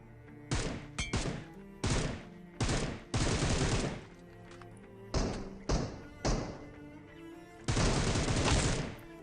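Bursts of gunfire in a battle royale video game: loud, sharp volleys come in short rapid clusters with brief gaps, close and punchy, followed by a longer sustained burst near the end.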